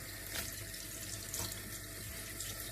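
Tap water runs steadily into a sink while fish is washed piece by piece, a continuous close splashing hiss with a few brief louder splashes and no talking.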